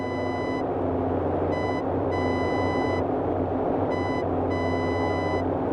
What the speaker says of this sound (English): Didn't manage yet to really get the steady beep of the beam.